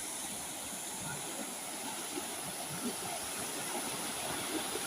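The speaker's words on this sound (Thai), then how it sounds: "เสียงรถไฟมากจ้ะ" A steady, broad rumbling roar with a constant hiss, a train passing close by in Denmark, loud and continuous throughout.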